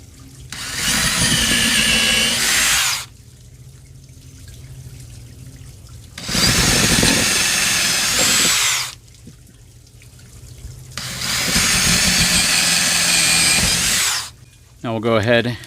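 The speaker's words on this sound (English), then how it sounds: "the first thing I'm going to do is go ahead and pre-drill the holes that the bolts will be going into" A power drill whines in three long bursts of about two to three seconds each, pre-drilling bolt holes into lumber, separated by quieter pauses, close by.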